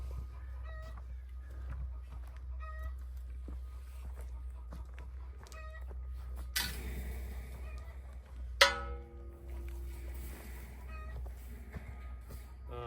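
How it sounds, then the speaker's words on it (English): Chickens on a Montana homestead cluck faintly in short repeated bursts against a low background hum, with one louder squawk partway through. "Yeah, just chicken."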